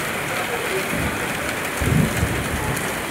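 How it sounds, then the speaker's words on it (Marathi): Rainwater runs along a town street near a bus stop after a downpour, a dense steady wash of water with a louder surge midway, and a voice talks faintly underneath. "रस्त्यावर कसं पाणी वाहतंय मित्रांनो"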